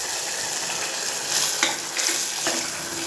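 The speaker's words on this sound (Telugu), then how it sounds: "తర్వాత ఇది వేగుతూ ఉంటుందండి." Masala sizzles and fries steadily in hot oil for a paya curry, a constant crackling hiss close by with a few scraping stirs of a utensil against the pan, no talk.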